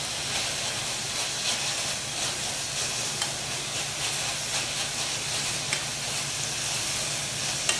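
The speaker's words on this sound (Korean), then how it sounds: "고기를 바싹 볶아 주셔야 돼요." Meat stir-frying over high heat in a pan until nearly dry, a steady dense sizzle and hiss running continuously at close range with faint scraping stirs, no voices.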